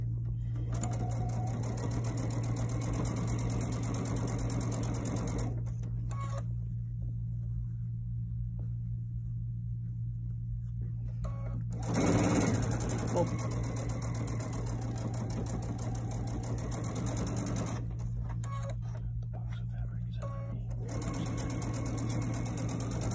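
A sewing machine joins two fabric pieces right sides together along a 1/4 inch seam, running in long steady bursts with short pauses between, over a constant low hum from the machine's motor.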